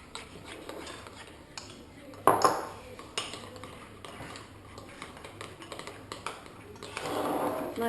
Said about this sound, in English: choose a bowl, girls, drop some in and then mix it around